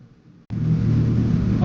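A Nissan Pulsar GTI-R engine idles just over 1000 rpm after restoration: a steady, loud, close rumbling drone that starts abruptly after a brief quieter moment and holds evenly.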